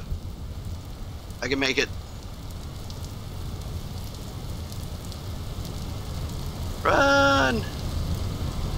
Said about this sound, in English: Oh, it's raining! Don't put my torch out.